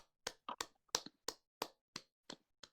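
Hands clap about ten times, close and crisp, in a loose, slightly uneven rhythm with short silent gaps between the sharp slaps.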